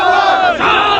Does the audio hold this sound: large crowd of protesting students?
yes